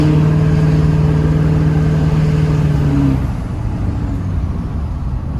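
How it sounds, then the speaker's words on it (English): An LB7 Duramax pickup climbs a hill under load, its engine droning loud and close with a steady rising turbo tone, then easing slightly near the end. "hopefully you guys can kind of hear the turbo. Spool up a little bit"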